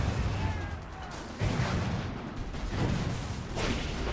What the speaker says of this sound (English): re-angle the artillery piece and watch things blow up